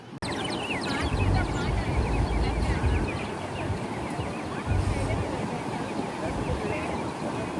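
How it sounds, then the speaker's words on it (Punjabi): Sea waves breaking on a beach in Goa at sunset: a broad, continuous surf roar with wind buffeting the microphone, swelling slightly in places. "ਸਮੁੰਦਰ ਦੀਆਂ ਲਹਿਰਾਂ"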